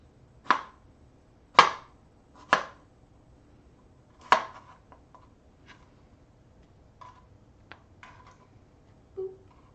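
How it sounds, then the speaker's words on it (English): Knife chopping vegetables for vegan chili on a wooden chopping block, a few sharp separate chops with pauses, then lighter clicks and taps, close and alone. "Let's continue chopping."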